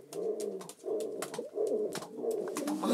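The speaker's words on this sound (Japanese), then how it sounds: "マール君が求愛を始めました" A pigeon coos in courtship indoors, repeated low rolling coos in close succession, near and clear, with faint rustles between them and no talk.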